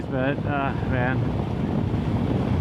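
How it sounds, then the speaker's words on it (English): Heavy wind noise from riding a motorcycle buffets the microphone in a steady low roar while someone speaks briefly over it at the start. "Hopefully the wind will die down."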